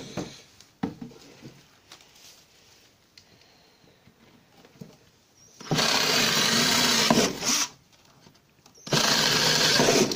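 Power drill boring holes through a wood board for the front wall and entrance of a bee nucleus hive, two loud sustained bursts of drilling after quieter handling and scraping, each run lasting a few seconds.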